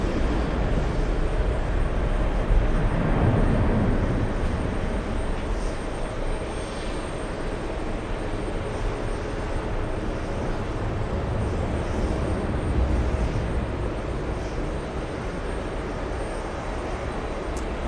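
An Aer Lingus airliner takes off, a broad engine roar that swells early, then holds as a steady, fairly distant rumble.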